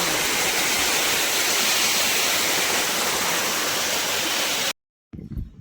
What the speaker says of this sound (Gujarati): જોઈ શકો છો કે ફૂલ પાણી ચાલુ ચાલુ છે